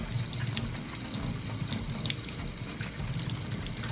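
Brass-coated dresser handles rinsed under a running tap, a steady close splash and gush of water with faint clinks of metal, no talk.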